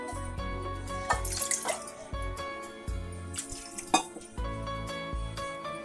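Water being poured into a pot on the stove to make sugar syrup for gaja, heard as close splashing and trickling with clinks of the vessel, in uneven bursts across several seconds.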